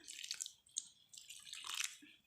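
Hot water trickled in small portions into dough for crispy khasta muduki, giving quiet, faint drips and soft splashes in a few short bursts, with no talking.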